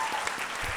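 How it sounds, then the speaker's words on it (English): A drag show audience breaks into a brief burst of clapping that hisses like a dense wash of applause, with a faint voice mixed in. "Let's give her a round of applause."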